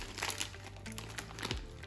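Plastic packaging around a raw brisket being pulled open, a short run of close crinkling and crackling rustles, fairly quiet, with no voice.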